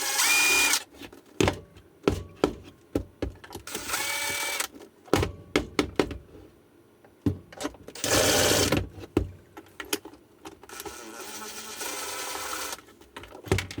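A small powered screwdriver whirs in short repeated bursts, backing a screw out of a leaky, rusty Turnlife 36V 8.7Ah e-bike battery case, with clicks and handling noises and someone talking between bursts.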